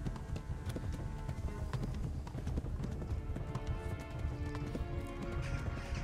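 Steady hoofbeats of a horse galloping in the video game Kingdom Come: Deliverance, a continuous rapid clip-clop over a dense low rumble, with no pauses throughout.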